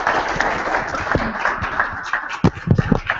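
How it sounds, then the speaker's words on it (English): An audience at a safe-schools conference claps for a speaker named Dave, a continuous round of applause that swells into a few sharper, louder claps near the end. "Big hand of applause for Dave."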